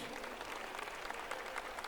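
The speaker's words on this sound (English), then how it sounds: "Let us give an applause and a heartfelt appreciation" Audience applause at a primary-school annual day event, a dense, continuous patter of clapping at a fairly distant, moderate level without pause.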